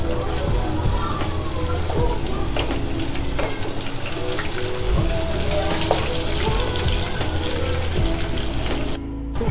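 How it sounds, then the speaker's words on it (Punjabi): Garlic fries in well-heated oil for a homemade mixed dal tadka, giving a steady, dense sizzle and crackle that runs unbroken and fairly loud throughout, then cuts off briefly near the end. "ਤੁਸੀਂ ਦੇਖ ਸਕਦੇ ਹੋ ਸਾਡਾ ਤੇਲ ਜਿਹੜਾ ਇਹ ਚੰਗੀ ਤਰ੍ਹਾਂ ਗਰਮ ਹੋ ਚੁੱਕਾ ਹੈ ਹੁਣ ਅਸੀਂ ਇਹਦੇ ਵਿੱਚ ਪਾਵਾਂਗੇ ਜੀ ਲਸਣ"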